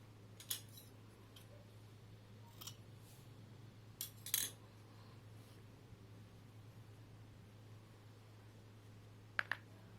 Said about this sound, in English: slip stitch into the next stitch and cut off your yarn.